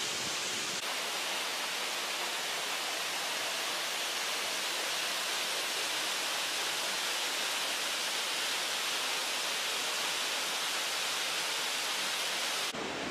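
Waterfall in Daigo, Ibaraki, a steady, even rush of falling water with no variation or voices throughout.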